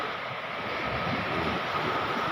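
Waves washing against a rocky beach shore, a steady broadband rush of surf with wind noise, continuous and moderately loud without voices.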